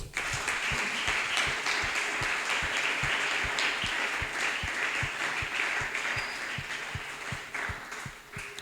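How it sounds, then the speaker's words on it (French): A church congregation claps in steady rhythmic unison, a dense, sustained round of applause that fills the room for several seconds. "Acclame très fort."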